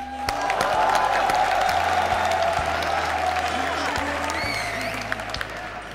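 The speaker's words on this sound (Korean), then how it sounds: "박수 부탁드립니다" Steady, loud clapping from an audience at a Korean army unit's broadcast show fills the whole stretch, a dense even wash of hands with a few sharper claps poking through, fading slightly near the end.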